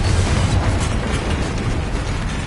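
A Confringo explosion spell bursts in Hogwarts Legacy, a loud, dense blast with a rumbling low end that fills the whole moment with no talk.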